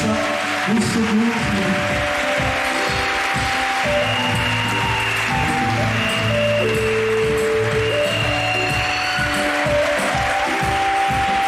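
A prayer-rally congregation applauds for a reverend pastor, a loud, steady wash of clapping that runs unbroken throughout with music playing beneath it.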